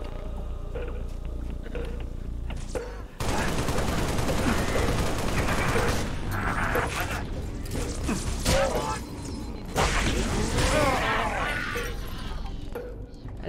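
Gunfire in Halo Reach: rapid bursts of weapon fire and mechanical clatter from the game, loud and busy, mixed with other game effects and a player talking over it.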